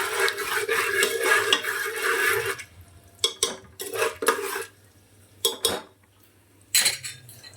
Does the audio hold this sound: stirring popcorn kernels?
yes